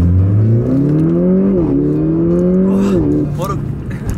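A Mercedes-Benz CLA45 AMG (381 hp) engine revs loud and close, heard from inside the car, its pitch climbing through gear changes in a strong, steady roar, with a voice briefly heard near the end.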